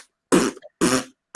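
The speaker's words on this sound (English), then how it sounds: "You need a fart sound with that." Three loud, broad blasts of a fart sound effect, each lasting about a quarter second with short silences between, played alone in a live stream's background.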